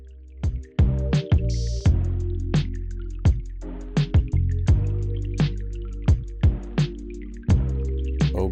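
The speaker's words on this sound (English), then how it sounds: "Add that to the pot, give it a nice little stir, and continue to cook uncovered for another 10 minutes." Marinade water poured and stirred into a pot of Dominican pepper steak, giving a steady run of wet, plopping drips and squishy liquid sounds close up, repeating every half second or so.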